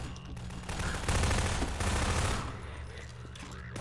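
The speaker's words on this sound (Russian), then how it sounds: "у меня есть автомат." Automatic rifle fire in a Hello Neighbor mod of Garry's Mod, dense rapid bursts over loud game noise that fade after a few seconds.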